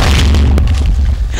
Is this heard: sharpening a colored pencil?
no